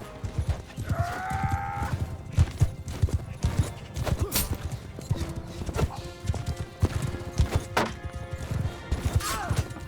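Horses in a Mount & Blade II: Bannerlord battle: steady clip-clop of galloping hooves with a couple of neighs and whinnies, mixed with thuds and clashes of combat, fairly loud and busy throughout.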